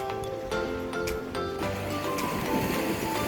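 Ocean waves break against concrete breakwaters along a coastal road in Japan, a steady broadband roar of surf that swells after the first second and a half, mixed with wind noise.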